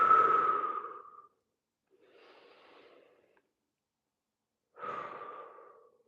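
Close, deep breathing during a standing shoulder and neck stretch in a home fitness workout. A long, loud exhale is followed by a quieter breath, silence, then another strong exhale, with no talking.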